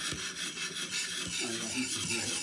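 A mountain man knife blade rasps back and forth across a sharpening stone in quick repeated strokes, close and fairly quiet, with no voices.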